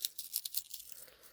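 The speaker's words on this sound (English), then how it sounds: "Let's crumple it up" Paper over 100 years old is crumpled by hand, a few quick crisp crackles and crinkles close by, then fading into softer rustling, quiet overall.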